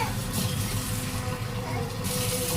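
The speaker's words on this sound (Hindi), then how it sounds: "देखो इसके लिए मैं डालूंगी इसमें पानी" Water poured into a pan of aloo matar keema, a steady broadband wash running for a few seconds alongside a low kitchen hum, with a brief pause in the hiss near the end.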